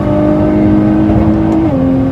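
Nissan GT-R pulling hard under acceleration, a loud close engine note climbing steadily in pitch with a brief dip at a gear change, alone without talk.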